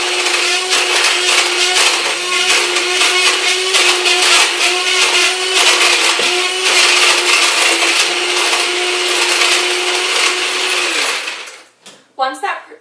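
An electric hand mixer whirs steadily as it beats batter in a bowl, a loud continuous motor drone with rattling beater clatter that runs for about eleven seconds, then cuts off, followed by a few brief knocks.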